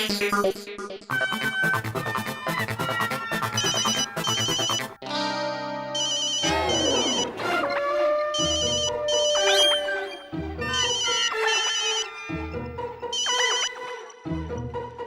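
A melodic phone ringtone plays loudly and continuously, looping its electronic tune with a few short breaks between phrases.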